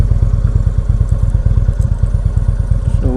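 A 2016 Indian Roadmaster motorcycle riding, its engine throbbing in a loud, steady low rumble with rhythmic pulsing throughout.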